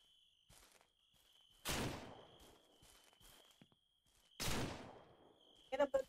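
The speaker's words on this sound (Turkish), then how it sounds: "Bir yerden bana ateş ediyor gibi." Gunfire in Ranch Simulator: two loud, sharp shots a few seconds apart, with softer footsteps and scattered clicks between them and a brief burst at the end, over a steady tone.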